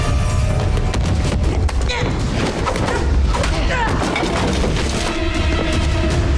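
Gunfire in a fight scene with Elektra from The Defenders TV series, heard as bursts of shots and booms amid loud scene audio, with people talking over it.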